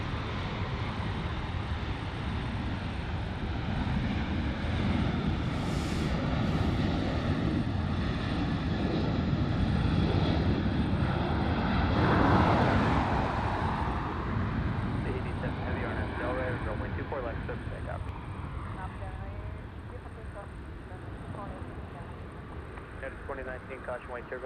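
A blue Air Tahiti Nui Boeing 787 Dreamliner at LAX sends out a steady, moderately distant jet engine rumble that swells and then recedes, with a voice talking over it now and then.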